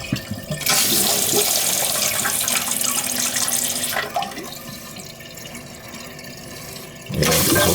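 A toilet flushed by its handle gushes loudly and swirls, then settles into a quieter steady rush of water refilling the tank. A second loud surge comes near the end, suggesting a toilet that keeps running.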